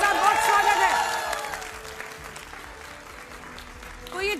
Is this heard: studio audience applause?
yes